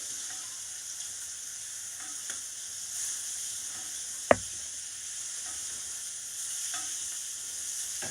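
Steak sizzles steadily in a hot pan, giving a constant frying hiss, with a single sharp click or tap partway through.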